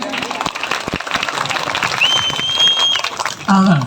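Audience applause at a live comedy performance, a brief burst of clapping mixed with crowd noise, overlapped by speech and a short electronic tone near the end.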